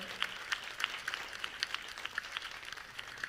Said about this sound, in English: Give a round of applause one more time.